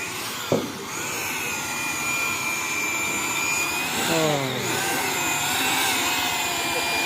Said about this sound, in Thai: กำลังเจาะวันนี้เนาะ